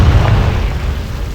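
Confringo spell blast in Hogwarts Legacy, a short, loud, low booming explosion that rumbles and fades over about a second, with no talking.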